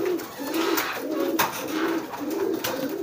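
Pigeons in a loft coo steadily in repeated low, rolling phrases, close and fairly loud, with faint rustles and a few sharp clicks mixed in and no talking.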